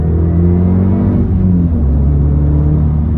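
A 2011 Volkswagen GTI coupe's engine rumbles low and steady, close by, with a slight shift in pitch midway as it revs.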